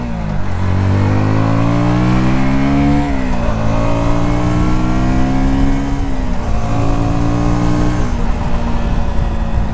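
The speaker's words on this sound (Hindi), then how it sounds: "इतना अच्छा इनिशियल पिकअप है इस मोटरसाइकिल का" A KTM Duke 160 motorcycle accelerates hard in first gear, its engine note climbing loudly in repeated rising sweeps, close and continuous with no speech.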